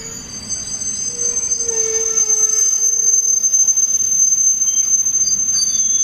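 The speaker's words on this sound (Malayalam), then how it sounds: "നമ്മളിപ്പോൾ ട്രെയിനിൻ്റെ അകത്താണ് നിൽക്കുന്നത്." Interior of the moving Ernakulam–Velankanni Express in a third AC three-tier coach, with a steady rumbling rail roar and high drawn-out wheel squeals and whines layered over it, close and loud throughout.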